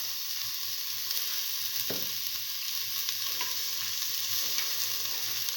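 A lentil mixture fries in a pan while salt and turmeric powder are stirred in, giving a steady soft sizzle with occasional scraping strokes, close and moderately quiet.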